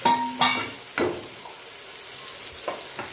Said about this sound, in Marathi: इथे मी चार कांदे घेतले, भाजून घेऊया मस्त तेलामध्ये।